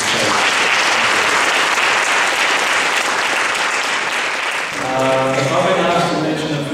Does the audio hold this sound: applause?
yes